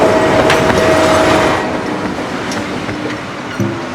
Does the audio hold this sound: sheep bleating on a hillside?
no